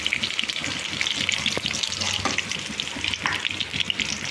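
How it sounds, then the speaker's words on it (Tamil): Curry leaves and green chillies sautéing in a pan, a steady broad sizzle and hiss running throughout with faint clinks of stirring, close and moderately loud. "அடுத்து பச்சை மிளகா போடுறோம். போட்டு வதக்குறோம்."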